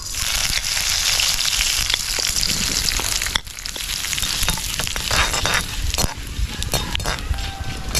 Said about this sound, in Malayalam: കുരുമുളകും ജീരകവും ലേശ എണ്ണയിൽ വറുത്തിട്ട് ഇങ്ങനെ പോരുക